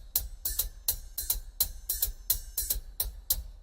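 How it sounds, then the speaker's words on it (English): Hi-hat on a right-side stand, played with its foot pedal, gives a run of crisp, quiet chick and splash strokes in a steady, slightly uneven rhythm, with nothing else heard. "Then I have a hi-hat stand to my right"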